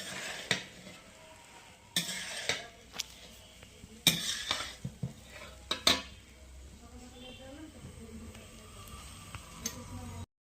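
Rice being stirred in a pan for fried rice gives repeated metal scrapes and clanks of a spatula against the pan over a faint sizzle, nearby and uneven in rhythm.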